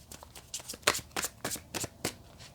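Tarot cards being shuffled to draw a clarifier card, a quiet close run of papery riffling slaps and flicks in an uneven rhythm.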